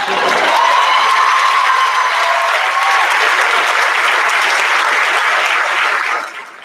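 An audience at a 2018 high school graduation ceremony bursts into loud, sustained applause for several seconds before it tapers off at the end.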